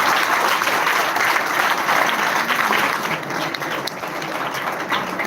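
Audience at a technology and future mobility talk clapping for the speaker, a sustained, even round of applause from a sizable crowd lasting several seconds.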